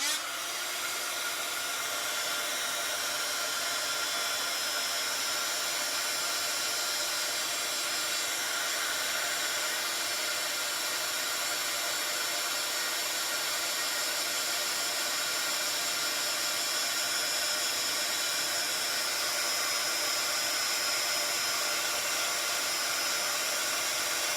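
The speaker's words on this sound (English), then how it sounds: "I'll just use the embossing, the heat tool again" Embossing heat tool blowing hot air over a card-making project, a loud, steady high-pitched whir and hiss that holds constant from start to finish with no voices.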